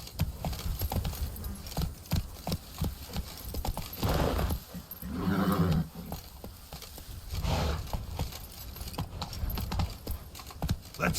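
Roach the horse gallops in The Witcher 3: Blood and Wine, hooves pounding in a fast, rhythmic clip-clop that stays loud and close throughout.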